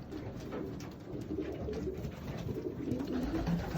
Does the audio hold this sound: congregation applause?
no